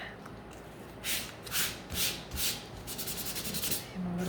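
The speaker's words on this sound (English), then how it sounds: "Give this a sand." A painted pumpkin scarecrow craft being hand-sanded, several close rough rubbing strokes that grow into a quicker run of short scrubs.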